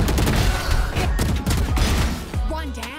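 Rapid gunfire in the tactical shooter Valorant, a dense, loud burst of overlapping shots and impacts for a few seconds, close and punchy, with a brief lull and a final shot near the end.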